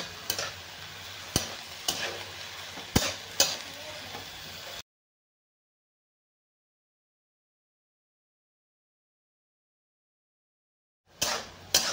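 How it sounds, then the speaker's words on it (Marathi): Moong dal is stir-fried in a pan with a gentle sizzle and several sharp spatula scrapes and taps, close up, before the sound cuts to silence and briefly returns at the end. "आता ह्याला आपण थोडंसं परतून घेणार आहे।"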